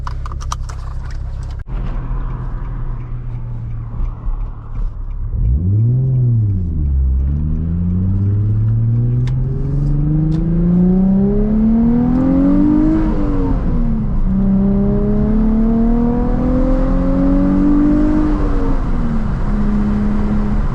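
Nissan 350Z with a Tomei exhaust starting off and driving, engine revving up through several gears in rising sweeps with shifts between, loud and close from inside the car, no speech.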